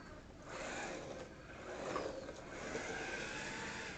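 A Suchiyu 16303 RC drift car runs at low speed setting, giving a steady, fairly loud electric motor whine with slight surges as it drives and drifts on soft tyres, no talking over it.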